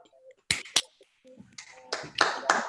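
A handful of scattered, quiet hand claps from a small online audience after a talk at a string mathematics conference, sparse and irregular rather than full applause.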